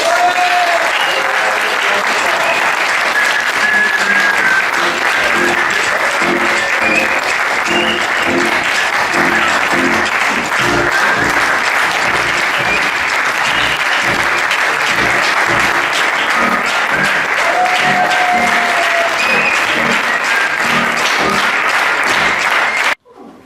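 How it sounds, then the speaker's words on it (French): A theatre audience at an improvisation show applauds loudly and steadily for over twenty seconds, dense clapping that cuts off abruptly at the end. "je vous demande d'applaudir très très fort"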